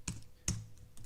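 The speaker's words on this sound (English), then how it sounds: "when we're typing it into cell" Two or three quiet keystrokes click close by on a computer keyboard while text is typed into a spreadsheet cell, with short gaps between taps.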